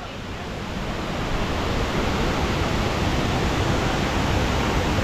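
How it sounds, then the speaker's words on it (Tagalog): Hulugan Falls in Luisiana, Laguna, a waterfall thundering as a steady, dense, full roar of falling water, loud and close, continuous throughout with no speech. "Itong Hulugan Falls."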